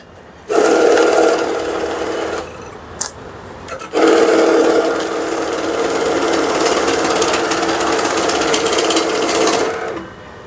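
An electric currency counting machine riffles through a stack of Malaysian banknotes in a loud, continuous whirring flutter, with a brief pause partway before a second long run.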